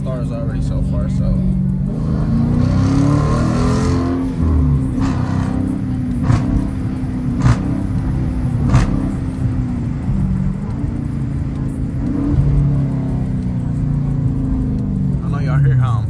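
Dodge Challenger R/T engine rumbling and revving loudly and steadily while driving, heard close from inside the car, with a heavy low drone throughout.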